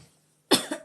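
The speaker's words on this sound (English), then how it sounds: "Okay, coughing." A single person coughs close by, a sharp harsh burst followed by a quicker second cough after a brief silence.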